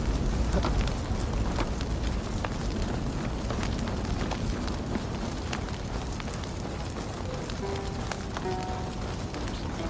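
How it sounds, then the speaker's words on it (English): A fire crackles and roars steadily and loudly in Assassin's Creed Valhalla, a dense continuous blaze with scattered pops and snaps throughout, no voices over it. "Help! Fire! Save my food, it burns!"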